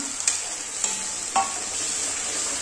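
Mutton curry masala with stone-ground gravy fries in a pan, a constant bright sizzle with three or four sharp scrapes from a stirring spoon.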